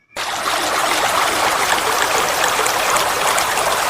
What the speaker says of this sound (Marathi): नदीला पूर आलेला असतो नदी वेगाने वाहत असते